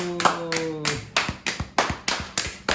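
A group claps in a steady rhythm at a church Bible-doctrine camp, with about nine sharp, evenly spaced claps and a brief sung or spoken tone at the start.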